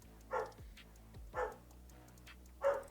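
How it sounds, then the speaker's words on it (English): A dog barks three times in the background, faint and somewhat distant, with evenly spaced short woofs over a low steady hum. "With my dog barking in the background."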